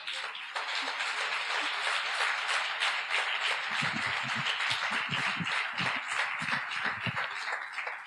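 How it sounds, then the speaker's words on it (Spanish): Church congregation applauding the Lord during a Spanish-language sermon, sustained dense clapping throughout, joined midway by rhythmic low thumps like stamping or drumming. "Un aplauso al Señor, por favor."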